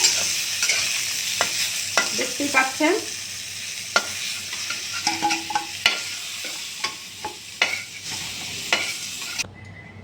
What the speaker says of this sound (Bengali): আমার পটলটা একটু ভাজা ভাজা হয়ে গেছে